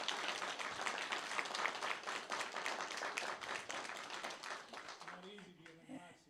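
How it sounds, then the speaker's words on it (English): Audience at a community electric co-op town hall meeting gives a sustained round of applause, dense steady clapping for about five seconds that fades out as a voice begins talking near the end. "Let's give them all a round of applause."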